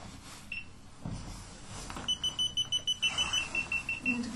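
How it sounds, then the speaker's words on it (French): A camera's electronic beeps ring out in a rapid string of short, evenly spaced tones, isolated at first, then a sustained sequence of nearly a dozen pulses over a low background hum during a paranormal investigation in a château. "elle va se servir du bip sonore de la caméra pour s'exprimer"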